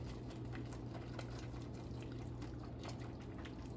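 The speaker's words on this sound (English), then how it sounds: "Pour that in there. I just want to whisk it in really fast so it doesn't have time to clump up." Liquid is poured into a pot of chicken and dumplings while being whisked fast, a steady close wash of splashing and stirring with faint clinks, no voices.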